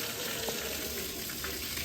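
Water flows without stopping into a temple bathing tank at Droneshwar Mahadev, giving a steady, soft wash of gushing sound with no talk over it.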